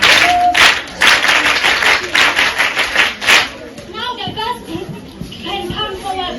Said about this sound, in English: Let's clap hands for already.